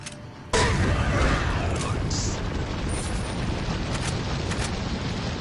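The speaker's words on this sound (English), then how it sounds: "we're just going to throw the grenade" A grenade blast in the game Resident Evil 4 erupts with a sudden loud boom, then a sustained, rumbling roar of debris and fire fills the rest of the moment with no talk.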